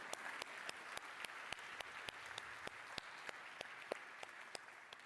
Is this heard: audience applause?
yes